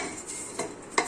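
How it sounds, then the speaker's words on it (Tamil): A dirty uruli vessel, a traditional bell-metal pot, scrubbed with a scrubber before Pongal: soft, close scraping strokes with a couple of brief louder rubs, no talking. "சும்மா ஜஸ்ட்டு ஸ்க்ரப்பரில் தொட்டுட்டு"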